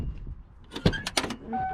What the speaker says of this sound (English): Let's take a second to appreciate the door clack.